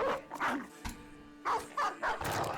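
A small dog barks in a video game, several short sharp barks in quick bursts, close and fairly loud with no talk over them.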